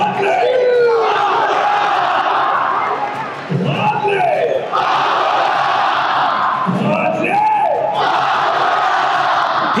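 A large football stadium crowd roars with full-voiced ultras. A dense, loud wall of cheering and chanting swells with several rising bellows throughout.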